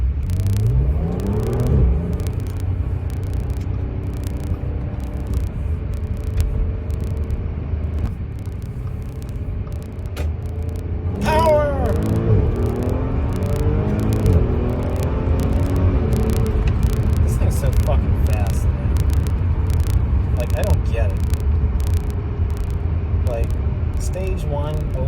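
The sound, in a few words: Audi S4 B8 3.0T supercharged V6, stage 1 tune, accelerating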